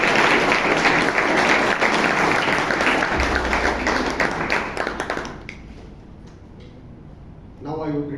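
Members at a Toastmasters club meeting in Bangalore give a warm round of applause to welcome a new member, a full burst of group clapping that fades out after about five seconds, followed by a brief voice.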